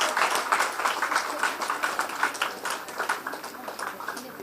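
Applause from an audience for students at a college investiture ceremony, steady scattered clapping that carries on throughout at moderate loudness with a faint voice underneath.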